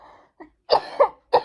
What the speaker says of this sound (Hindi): अभी इतनी देर से खांसी नहीं थी और एकदम से अब स्टार्ट हो गई